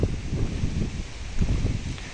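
Steady, rough wind buffeting the microphone outdoors in a vegetable garden, shaking eggplant plants, with gusty low rumbling that swells and eases throughout.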